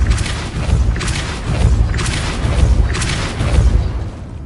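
Repeated Depulso force-push spell casts in Hogwarts Legacy, four deep booming whooshes with rumbling low thuds at roughly one-second intervals, loud and close with steady game ambience underneath.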